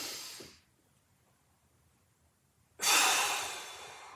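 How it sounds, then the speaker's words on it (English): Deep breathing during a mobility workout: one long, loud breath fades out over about half a second, then silence, then another strong, airy breath rushes in close to the microphone and slowly trails off. "In through the nose, out through the mouth"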